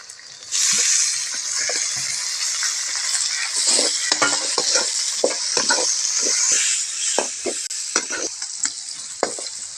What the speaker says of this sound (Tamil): தக்காளி வதங்கிட்டே இருக்குது